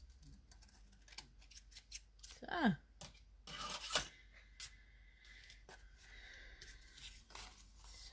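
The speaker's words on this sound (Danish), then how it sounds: "Jeg prøver at se, om jeg kan rette det op med min saks." Scissors snipping to straighten a crooked cut while unpacking a PTW club kit, a few close, sharp cuts and rustles spread through the stretch with a brief word spoken.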